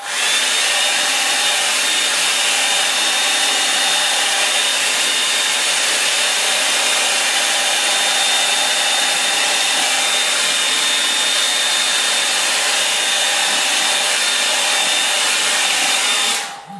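A hair dryer blows over fresh acrylic paint on a snowy river landscape, a loud, close, steady whirring rush that holds unbroken for about seventeen seconds before cutting off, with no voices.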